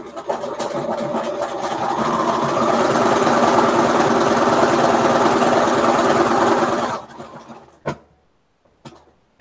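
A sewing machine loudly stitches quilt house blocks for about seven seconds, then stops abruptly, followed by a few sharp clicks and near silence.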